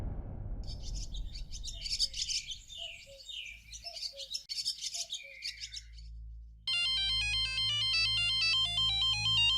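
A mobile phone rings late at night in a home, a steady electronic melodic ringtone starting about two-thirds through and continuing loud to the end, preceded by bird-like chirping and low rumble.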